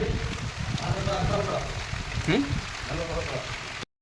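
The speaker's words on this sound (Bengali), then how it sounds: "হঠাৎ বৃষ্টি চলে এসছে বন্ধুরা, দেখতে পাচ্ছ তোমরা, ভালো জোর বৃষ্টি হচ্ছে" A sudden heavy downpour falls outside during false-ceiling work, a steady broadband hiss of rain heard throughout, with people talking over it.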